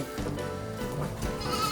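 Goats bleat inside a farm shed at a goat dairy farm, several wavering cries overlapping close by at a moderate level.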